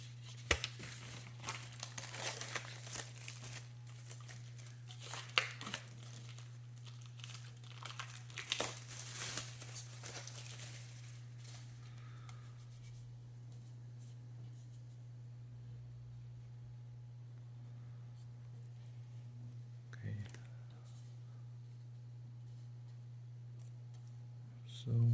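Packaging is opened on a 75% mechanical keyboard case: close crinkling and tearing of wrapping through the first half, then quiet with one brief rustle, over a steady low hum.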